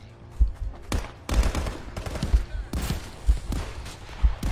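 Gunfire rattles through a session of the VR shooter Contractors, with repeated loud bursts and single shots up close and a low thump at regular intervals.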